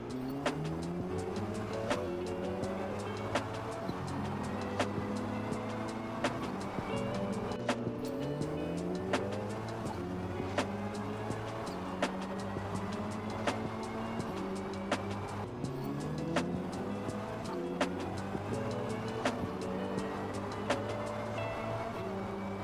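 A car in a Forza game accelerating from 30 to 100 mph, with engine tones climbing in a repeating pattern as it runs up through the gears, punctuated by regular sharp ticks, steady and moderately loud throughout.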